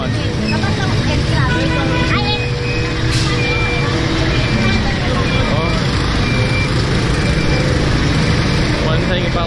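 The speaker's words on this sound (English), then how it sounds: "you get used to the traffic and the sounds" A busy Manila street carries steady engine rumble from trucks, cars and motorbikes, with the repeated electronic beeping of a truck reversing nearby, while people talk over the constant traffic noise.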